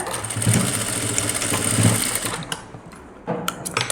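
A sewing machine runs steadily while stitching the neck of a blouse, its whirring motor and rapid needle clatter fading into a few short bursts and stops near the end.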